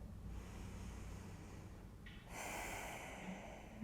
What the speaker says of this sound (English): Take one more cycle of breath here.